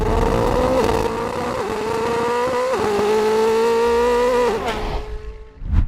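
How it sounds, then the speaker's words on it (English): A Koenigsegg V8 supercar engine of up to 2,000 horsepower, paired with electric motors, revs loudly and steadily with pitch rising and dipping through gear-like steps, then cuts off sharply before a brief rumble near the end. "This is not just any V8 engine."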